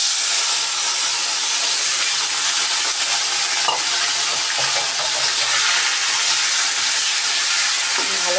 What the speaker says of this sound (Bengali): এখন মাংসটাকে তেলের মধ্যে দিয়ে দেব।